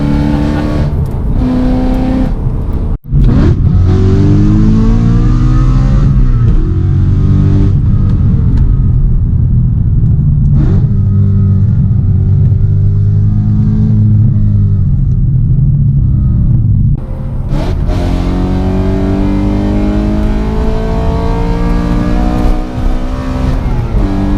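A BMW M3's engine revs hard and loud through a French valley, its deep, sustained roar rising and falling with gear changes. There is one brief cut near three seconds, and the note echoes off the surrounding slopes.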